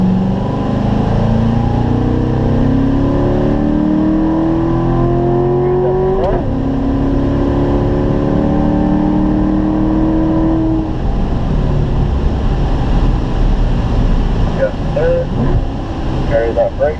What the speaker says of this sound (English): Roll into the power. Full throttle from there, Jeff.